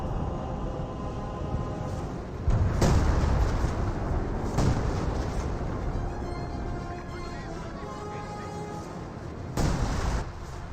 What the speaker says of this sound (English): No, it's the rocket barrage, the 28cm rocket barrage.